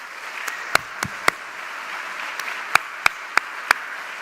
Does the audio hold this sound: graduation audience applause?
yes